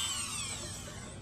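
A drill bores a hole through a plastic slot car chassis with a steady, high, whining buzz that holds evenly throughout and tapers slightly toward the end.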